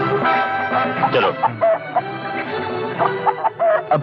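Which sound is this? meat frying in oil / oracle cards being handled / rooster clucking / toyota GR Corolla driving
rooster clucking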